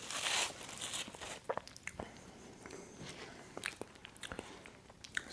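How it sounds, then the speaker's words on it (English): Crunchy bites and chewing into a Burger King cinnamon apple pie, close and fairly quiet, with several sharp crisp bursts spread over the clip and no talking. "Actually, let me take a bite of this semi apple pie."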